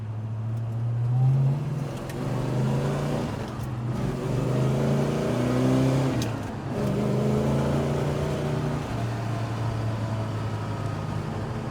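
A 1968 Plymouth Roadrunner's engine pulls hard on the road, revving up through a couple of gear changes in rising surges and dipping between shifts, loud and close from inside the car.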